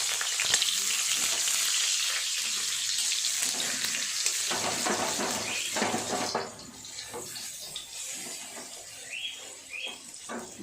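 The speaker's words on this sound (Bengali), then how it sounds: "বড়াগুলো এবার উল্টিয়ে দেব।" Split-pea lentil fritters (bora) frying in oil as they are flipped, a strong continuous sizzle that shifts and softens midway as the pieces are turned, with light utensil scrapes.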